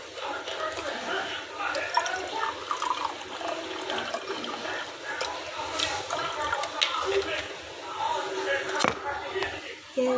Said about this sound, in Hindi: तो हम सबसे पहले पानी डालते हैं।